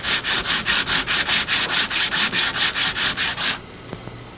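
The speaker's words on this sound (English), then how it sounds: "place just a half of a block on top of your shaft and rotate it as you sand" Rhythmic rubbing of a sanding block on a wooden arrow shaft, about fourteen even back-and-forth strokes at close range as the shaft rotates, then it stops and goes quiet.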